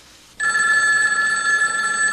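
A telephone bell starts ringing abruptly after a brief quiet moment, a loud, close, continuous metallic ring that holds steady to the end with no voices.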